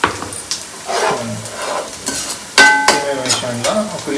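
Fish curry base of ground roasted onion, tomato, coriander and mint frying and being stirred in a pan for Telangana-style chepala pulusu, with close sizzling and scraping strokes in uneven bursts.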